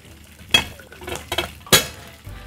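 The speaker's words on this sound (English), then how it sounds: "So just stir that in." A spoon clinks against a pot while pepper is stirred into spaghetti sauce, giving a few sharp metallic taps and scraping strokes over a faint simmer.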